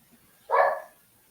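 A single dog bark rings out once, fairly near and clear, against an otherwise quiet room with faint background noise.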